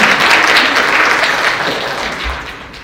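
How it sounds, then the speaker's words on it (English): Audience applause for a contestant at a school spelling bee, a dense, steady wash of clapping that fills the room and gradually tapers off toward the end. "Let's give contestant number 2 a round of applause here."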